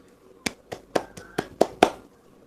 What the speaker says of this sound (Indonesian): tepuk tangan dulu untuk Cahyo